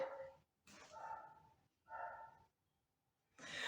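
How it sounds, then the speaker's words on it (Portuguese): A dog barking close by in three separate bursts, each a short run of sharp, slightly whiny barks with quiet gaps between them, and no human talk. "agora é o cachorro."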